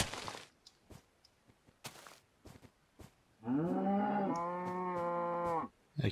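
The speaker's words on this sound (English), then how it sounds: "Lots of cows." A Minecraft cow gives one long, loud, close moo about two seconds long, after a scatter of short clicks and soft thuds from gameplay, with no talking.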